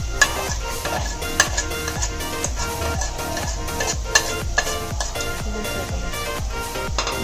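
Onions frying with salt in a pan are stirred with a steady, rhythmic scraping over a continuous sizzle, close and moderately loud.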